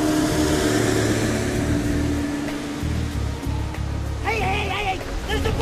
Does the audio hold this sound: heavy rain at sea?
yes